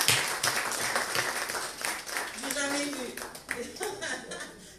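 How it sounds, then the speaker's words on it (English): Attendees clap at the launch of a campaign promoting gender parity, with thirteen political parties represented. Scattered clapping runs under lively crowd chatter and a voice that rises near the end. "You can give a clap to yourself."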